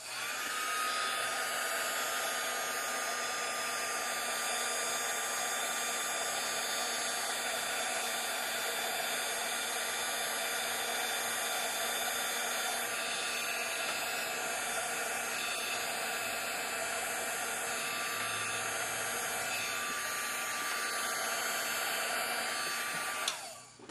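Embossing heat gun blowing hot air over dimensional pearls and embossing powder, a steady loud whooshing hiss running continuously for the whole stretch with no break and no voices.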